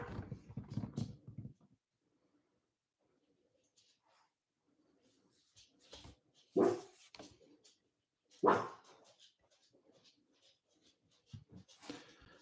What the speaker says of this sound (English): The barking is always Flower.